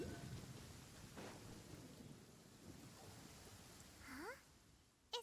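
Steady rain in the video game Genshin Impact with a low rumbling wash of noise throughout, a few brief chirping tones near the end and a sharp click at the close.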